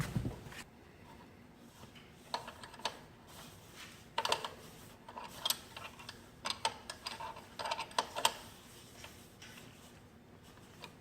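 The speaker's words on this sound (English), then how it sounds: "this is where your 15 wrench comes in handy, and that's how you tighten your pedals on." Bike pedals are tightened with a 15 wrench, giving small, irregular metallic ticks and clicks close by in a quiet room.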